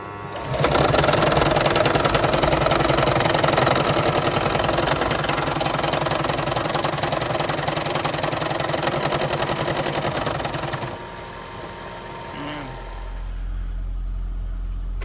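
A Toyota Prius engine runs steadily after a head gasket repair, a loud continuous idle with a fast rhythmic ticking that drops to a quieter hum near the end.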